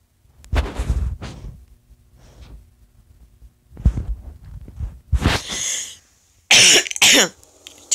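Several harsh coughs and throat-clearing bursts come close and loud in separate fits, with quiet gaps between, building to heavier hacking toward the end.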